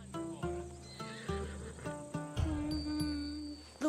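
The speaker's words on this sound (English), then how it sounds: "A true warrior's horse." Horse in the video game Assassin's Creed Odyssey, a Macedonian warhorse, neighing close and clear, with hoof clops and snorts breaking the whinny into short bursts over about four seconds.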